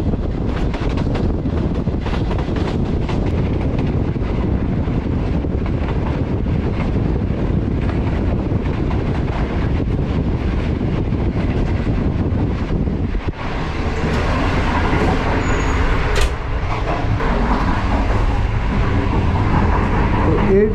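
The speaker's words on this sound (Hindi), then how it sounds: "ट्रेन जो है इस वक्त अप्रोच कर रही है ओकाड़ा रेलवे स्टेशन पर" Aboard the Green Line Express as it nears Okara railway station, a loud steady rush of wind and running noise fills the clip, easing slightly toward the end.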